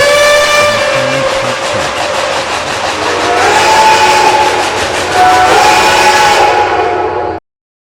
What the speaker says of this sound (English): types of ghost train whistles that I planned